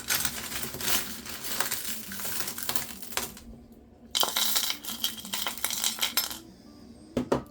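Treasures of Shambhala crystal chips are scooped into an order, giving a continuous close rattle and clinking of small stones with crinkly packaging noise and no talking.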